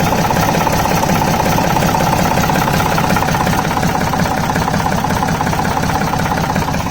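A Waldon 5000 diesel front loader runs steadily right after a cold start in freezing, snowy weather with bad fuel filters, its loud, close idle knocking and rumbling continuously with no talk.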